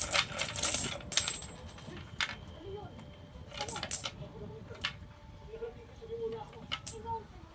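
Coins from children's piggy-bank savings clink and rattle as they are poured and sorted, in scattered bursts of metallic jingling that rise and fall over several seconds, with faint household background.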